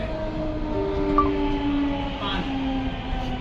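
Steady rumble of a moving metro train heard from inside the car, with faint tonal whines and hum from the motors, no clear speech.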